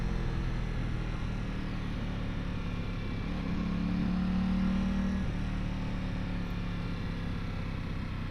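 An Aprilia Tuono 660 motorcycle engine hums steadily while riding, a continuous close drone with wind rush and a brief rise in pitch midway, no voices.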